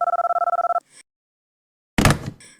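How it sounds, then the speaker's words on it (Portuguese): A telephone rings inside an apartment, a rapid electronic trill pulsing for under a second, then silence and a second short burst of noise and tones. "eu ouvi o telefone tocar dentro do apartamento"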